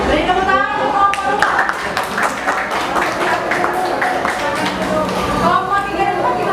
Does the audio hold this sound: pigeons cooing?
no